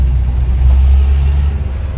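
A car engine rumbles steadily in road traffic, a low, loud drone with slight surges as the vehicle moves along, and no voices over it.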